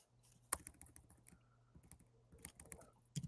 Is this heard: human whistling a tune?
no